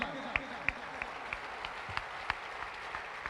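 A group of schoolchildren claps at a patriotic school event, with sharp, fairly faint claps landing in a roughly steady beat over a quiet background murmur.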